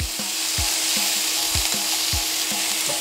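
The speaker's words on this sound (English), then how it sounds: "cook them until they are golden brown" Vegetables frying in oil until golden brown for an ossobuco: a steady, loud, close sizzle throughout, broken by regular low knocks from stirring about every half second.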